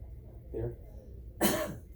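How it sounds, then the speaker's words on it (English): A person coughs twice during a medical examination, first a soft short cough, then a louder, harsher one close by, with quiet room noise between. "give me a cough"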